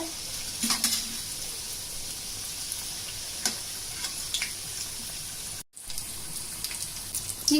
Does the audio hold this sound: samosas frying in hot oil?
yes